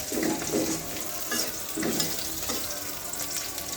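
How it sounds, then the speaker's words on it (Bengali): Onions frying in a pan with cinnamon, cardamom, cloves and bay leaves, a steady close sizzle with a few scraping stirs, moderately loud and without talking. "পেঁয়াজের সাথে ভালো করে ভেজে নেব।"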